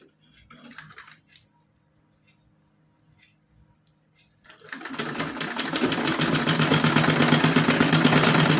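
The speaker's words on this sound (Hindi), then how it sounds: "इस पे हम इस तरह से सिलाई डाल लेंगे।" A sewing machine stitches a cotton frock-style dress for a Laddu Gopal idol, starting after a quiet stretch of faint handling sounds and then whirring steadily and rapidly at close range until the end.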